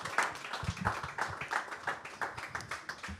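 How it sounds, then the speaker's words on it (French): A studio audience at a party-themed talk show applauds with quiet, scattered claps that come in loose, uneven bursts, fairly faint and close. "Applaudissements"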